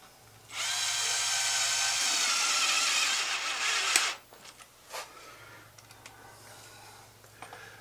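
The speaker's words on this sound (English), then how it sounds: "Now that we have our holes, all we're going to do is put our screws in." A power drill drives screws to mount a PEX compressed air drop, a loud steady whine running for several seconds, then stopping, followed by faint clicks and handling noises.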